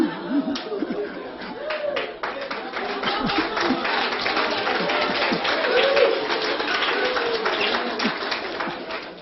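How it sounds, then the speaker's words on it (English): An audience claps and applauds steadily indoors at a talk in Prescott, Arizona, with chatter and laughter mixed into the clapping. "I wish I lived up to that applause."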